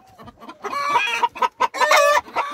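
A neighbor's rooster, caught at night, clucks and squawks loudly up close, a burst of agitated, rapid calls rising and falling in short choppy bursts.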